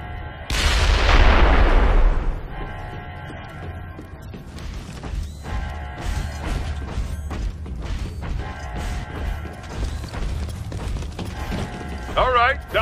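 Warhound missile drone strikes detonate in Ghost Recon Future Soldier: a loud, booming explosion rolls out early, then scattered gunfire, crashes and mechanical clatter carry on beneath voices.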